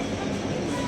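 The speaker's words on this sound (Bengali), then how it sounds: "এখন উঠে পড়েছি ট্রেনে" Inside a moving passenger train, a loud, steady rumble of wheels and carriage fills a brief moment with no pauses.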